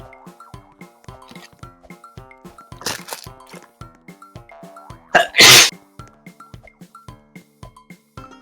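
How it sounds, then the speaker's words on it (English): A single loud, sharp sneeze near the middle cuts through a steady background of plinking, ticking game sounds in Roblox Tornado Alley Ultimate, preceded by a smaller breathy burst. "Well, I sneezed."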